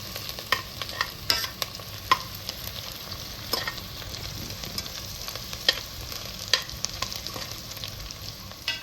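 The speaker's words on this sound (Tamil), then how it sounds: "இப்போ நான் வெங்காயம், பச்சை மிளகா எல்லாம் போட்டு சூப்பராக அருமையாக வணக்கிட்டு இருக்கிறோம்" Onions and green chilies sizzle as they are sautéed in a pan, with irregular spoon scrapes and clicks over a steady fry hiss, close and with no talk.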